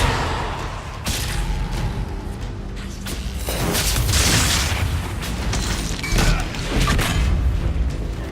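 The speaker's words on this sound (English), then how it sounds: "Just bringing in that fire attack again" Fire attack explosions in the Dragon Age Inquisition game, a loud run of booming blasts, thumps and whooshing bursts layered over continuous combat rumble.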